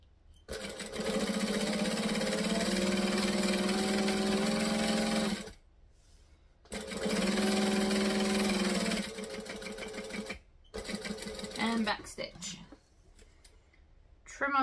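A sewing machine stitches a bag handle with contrasting thread in two long steady runs of several seconds each, separated by brief pauses and needle pivots, with close, loud whirring that ends in shorter bursts.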